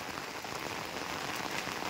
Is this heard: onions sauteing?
no